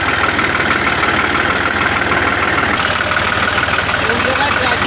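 A tractor engine runs steadily at close range, its continuous low mechanical chug and rattle holding the same level throughout.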